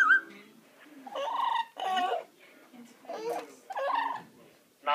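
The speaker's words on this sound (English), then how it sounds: "No, I think I can hear birds." Parrot squawking near a phone during a telesales call, shrill piercing calls and garbled babbling bursts repeating through a few seconds, fairly close.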